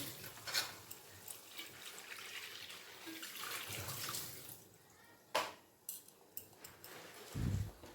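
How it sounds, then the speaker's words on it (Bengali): Water is poured into a cooking pan of spiced stuffed pointed gourd, a soft, steady splashing running through the stretch with a few clinks and a brief louder knock near the end. "এবার আমি জল দিয়ে দেবো অল্প ঝোলের জন্য"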